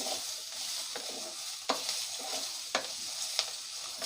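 Onions sautéing in a pan for country chicken soup hiss in a steady, close sizzle, punctuated by a few sharp clinks and scrapes of stirring and no voices.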